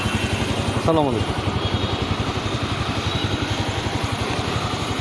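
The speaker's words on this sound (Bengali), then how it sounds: "বাইকটা স্টার অবস্থায় আছে," A Bajaj Pulsar 135 motorcycle engine idles steadily up close with an even, rapid putter, and a voice briefly talks over it.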